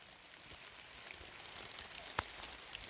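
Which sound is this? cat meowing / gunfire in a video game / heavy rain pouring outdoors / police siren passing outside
heavy rain pouring outdoors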